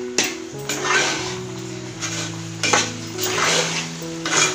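A spoon or spatula stirs a coconut burfi mixture of grated fresh coconut and dissolving sugar in a pan, making repeated scraping and clinking strokes against the metal with a faint sizzle underneath.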